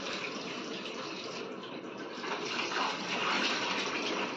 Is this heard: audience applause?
no